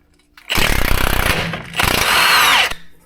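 An impact wrench removes a shock absorber bolt on a Ram 2500, two loud, close, rattling bursts of roughly a second each separated by a short pause, with no talking.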